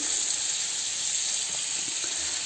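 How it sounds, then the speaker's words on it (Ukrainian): Steady, loud sizzling and hissing of fish frying in hot oil in a pan, continuous throughout with no talking. "Це у мене жариться рибка"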